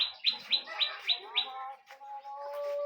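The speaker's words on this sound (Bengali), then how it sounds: "গাছে একটা পাখি ডাকছে, টুনটুনি পাখি, প্রচণ্ড শব্দে।" A tailorbird calls from a tree, close and clear, with five quick, sharp, evenly spaced chirps. A softer, drawn-out trill follows, and no one talks.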